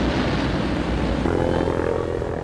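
A V-1 flying bomb in flight, a low-flying wartime pulse-jet weapon, heard as a loud continuous droning engine roar that holds steady throughout the clip.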